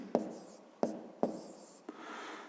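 A pen writes numbers on paper close up in four short, sharp strokes, each one a quick tap followed by a brief scratch, then a longer faint scratching stroke.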